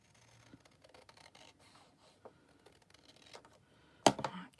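Scissors snip through a small paper tag for a mushroom swing tag craft, giving soft, close clicks and crunches, then a sharper louder cut near the end, with no talk.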